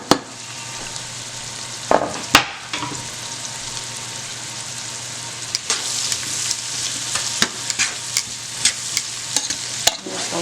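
Sausage frying and sizzling in a pan with onions and peppers, a steady hiss broken by clanks and scrapes of a utensil stirring, close and loud with no talk.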